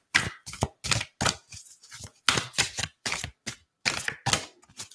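A deck of cards is shuffled in quick bursts of riffling and snapping, close and crisp, in irregular short runs separated by brief pauses.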